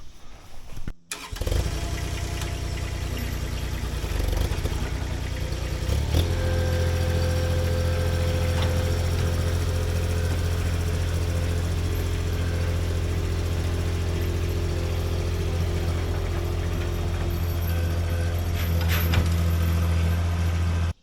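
Engine of a Bommalite S16 mini skid steer stump grinder starts up then runs steadily, a loud continuous droning idle close by throughout, with no talk.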